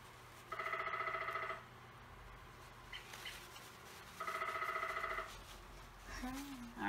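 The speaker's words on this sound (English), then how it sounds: "that was my woodpecker on my phone, on my clock" A woodpecker-sound alarm on a phone clock plays two loud, rapid pecking bursts about a second long each, separated by a pause, with a voice briefly heard near the end.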